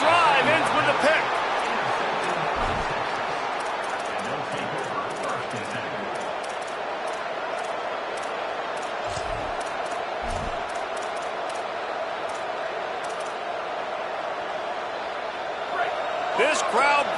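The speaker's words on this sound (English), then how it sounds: "This crowd bringing the energy and noise early" A large stadium crowd at a Texas versus Michigan football game roars in a continuous loud wash of noise, with occasional thumps and a commentator's voice faintly underneath.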